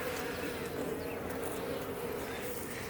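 Honey bees buzz continuously during an open hive inspection, a dense, even drone of many insects close by that holds steady throughout without speech.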